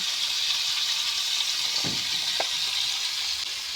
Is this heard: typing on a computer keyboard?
no